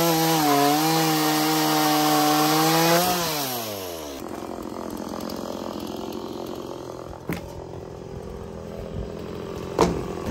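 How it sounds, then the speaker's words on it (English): A chainsaw cuts through old deck wood during a deck teardown: a loud, close engine note holds and then sags, giving way to a rough, grinding cutting sound with a few sharp knocks and no talking. "So let's get that chainsaw running."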